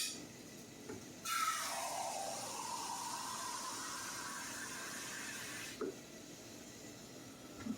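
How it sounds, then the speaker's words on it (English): A can of water poured into a soup pot in a home kitchen, a soft continuous splashing stream lasting several seconds, quiet and close, starting and stopping abruptly. "we're going to put 1 can of water in it"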